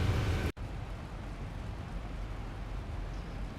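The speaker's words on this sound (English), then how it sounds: "Yeah, this is some rain." Steady rain inside the X-Plane 11 flight simulator, flying a Zibo 737-700 toward a wet runway: a dense, even hiss of falling rain that continues without a break after a brief cut near the start.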